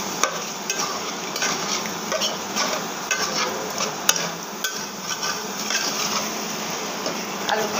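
Sliced potatoes fry in a pan with fish pieces removed and get stirred, a steady close sizzle broken by scattered sharp scrapes and clinks of the spatula, with no talking.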